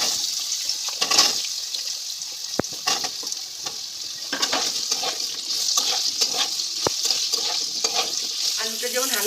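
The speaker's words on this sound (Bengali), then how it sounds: "প্রথমে আমি আলুটা একটু ভেজে নেব।" Potatoes frying in hot oil in a wok with dried red chillies and panch phoron: a steady, close sizzle and hiss broken by sharp scrapes and clicks of stirring.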